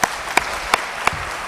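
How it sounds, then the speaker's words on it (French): Audience applause follows a speech at an entrepreneurship forum event, heard as a handful of sharp, spaced claps rather than a full ovation, moderately loud against a low room background. "Applaudissements amplement mérités par notre député."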